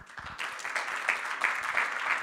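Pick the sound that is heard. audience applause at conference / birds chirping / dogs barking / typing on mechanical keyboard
audience applause at conference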